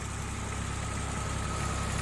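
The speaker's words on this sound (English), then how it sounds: "So I'm wondering how this great big heavy duty tractor is going to get by me." A great big heavy duty tractor rumbles past on a narrow village road in Aldwincle, a steady loud low engine drone up close without a clear rise or fade, with no speech.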